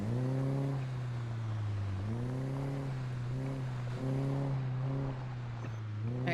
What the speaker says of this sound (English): This car does have a muffler, but it's pretty loud when I back up.